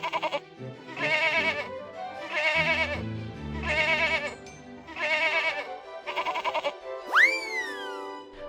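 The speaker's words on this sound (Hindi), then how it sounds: "वो कुत्ता नहीं है, बकरी है, बकरी, समझे?" A cartoon goat bleats loudly five times in a row, each bleat a wavering nasal cry, and then a springy boing-like sound effect follows.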